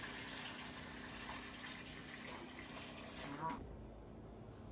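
Boiling water pours steadily into a cooking pot for a sour crab soup, a soft continuous splashing that stops abruptly near the end.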